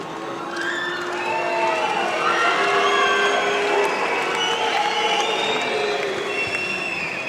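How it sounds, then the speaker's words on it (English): A large judo arena crowd at a Grand Slam final in Düsseldorf murmurs and calls out in a sustained, steady roar of mixed voices, with whistles and scattered shouts, reacting with disapproval to a throw attempt. "the crowd don't like it"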